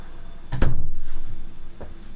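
A door swings shut with a single close, solid thud, followed by a short resonant ring and then a quieter knock a moment later.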